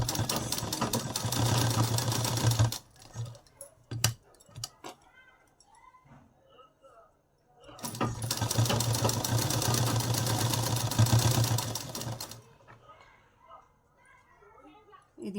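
A sewing machine stitches a child's face mask in two long runs of rapid, steady needle clatter, close and loud, with quieter handling sounds and speech in the pause between them.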